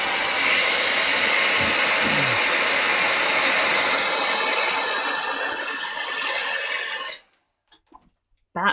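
A heat gun melting clear embossing powder for a Halloween craft, a steady loud blowing whoosh for about seven seconds that cuts off abruptly, followed by a few faint clicks and handling sounds.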